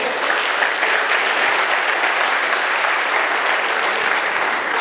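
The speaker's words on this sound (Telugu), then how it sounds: "మీకు గట్టిగా చప్పట్లు కొట్టండి" A large audience at a family achievers reunion training event claps loudly and continuously, a dense, even wash of applause with no pauses.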